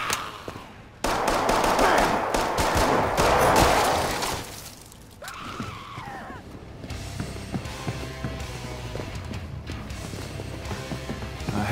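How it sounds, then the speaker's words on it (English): Kalashnikov rifle fire in the video game Killing Floor 2 rattles in loud, rapid bursts for the first four seconds, then gives way to a quieter stretch of game sounds and tonal background. "Kalashnikov does it again!"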